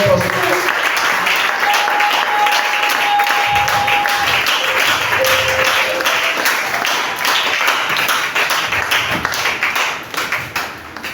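A church congregation applauds to welcome the preacher, with dense, loud, continuous clapping that thins toward the end, and some voices mixed in.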